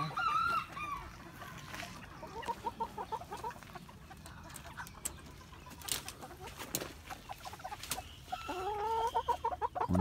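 Several chickens and roosters, including Sebright and Nagasaki breeds, cluck and squawk nearby, overlapping in irregular bursts, with louder calls toward the end.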